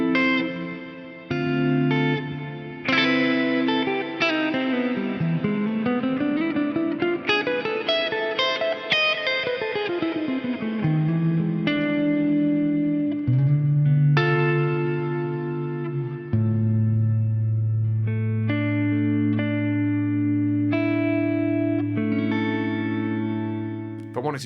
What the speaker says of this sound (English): I just set the pre-delay to 40 milliseconds on there